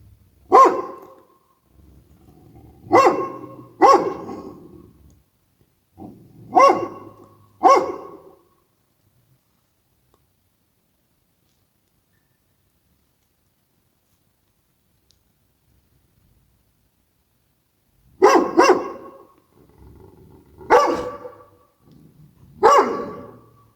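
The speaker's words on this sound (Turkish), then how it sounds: "Bu havlayan dişi arkadaşlar." Female dogs bark in short bursts of two or three, close and loud, with a long quiet pause in the middle before another run of barks.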